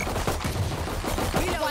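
Sheriff revolver fire in Valorant, with several quick, loud shots packed into a dense, busy combat mix lasting under two seconds.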